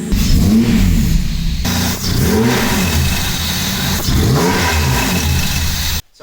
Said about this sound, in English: So this will be the first start. It's running on 6 cylinders finally.